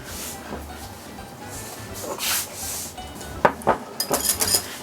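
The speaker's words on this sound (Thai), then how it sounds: "เราจะต้องคนจนส่วนผสมเนียนดีนะคะ" A spoon works through a cheesecake mixture in a bowl just out of the microwave, giving light scraping and clinking against the bowl, with sharper clinks toward the end.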